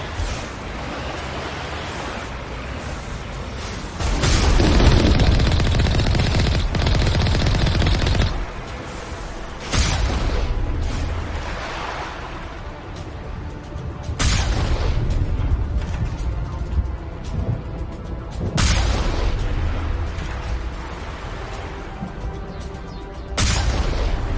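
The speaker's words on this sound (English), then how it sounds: "We must find a way to disable their artillery." Heavy artillery and gunfire in the Mass Effect video game: repeated loud booming bursts and rattling volleys arrive every few seconds over a dense roaring battlefield din, with no voices.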